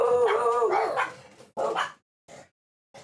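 Pet dogs bark and whine during a thunderstorm: a drawn-out yelping whimper, followed by a few short, sharp barks spaced apart, close by and loud.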